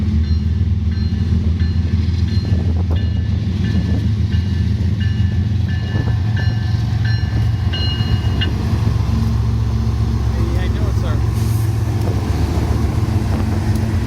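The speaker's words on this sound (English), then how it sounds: "big old BNSF right here, loaded down with coal" A heavy BNSF freight train loaded with coal rumbles steadily past nearby in Dallas, Texas, a continuous loud roar of wheels and cars clattering on the rails with no break.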